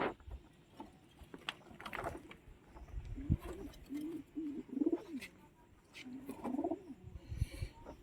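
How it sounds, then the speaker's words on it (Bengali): Tournament pigeons cooing in soft, repeated throaty bursts at close range, with faint rustles and clatter between the calls. "আর এক পেয়ার চোখের পায়রা দেখাচ্ছি।"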